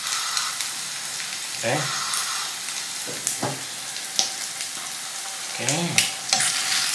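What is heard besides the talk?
frying a sunny side up egg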